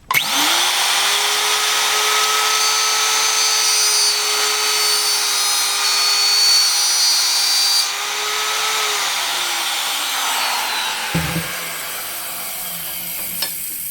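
A machine router cuts into tuner buttons held in a vise, giving a loud, steady high whine for about nine seconds before winding down, followed by a brief clunk and lighter tool noise.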